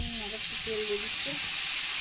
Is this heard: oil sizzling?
yes